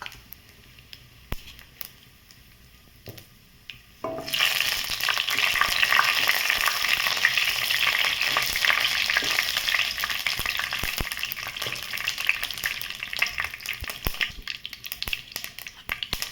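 A South Indian tempering of dried red chilies, chana dal, mustard seeds, cumin and urad dal hits hot oil for a tomato curry, bursting into a loud, dense sizzle and crackle after a few quiet seconds of small clicks, then holding steady close up.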